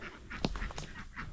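A single lone farmyard duck quacking close by, several short nasal calls spaced unevenly through the moment, with one louder, sharper quack near the middle and no talking.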